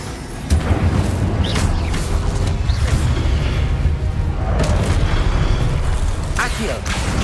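Incendio fire spells cast repeatedly in Hogwarts Legacy, bursting as loud whooshing blasts over a steady rumbling game backdrop, with a voice talking throughout.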